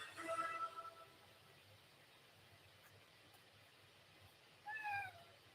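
A pet cat meows twice indoors, one drawn-out meow at the start and a shorter one near the end, with quiet room hiss in between.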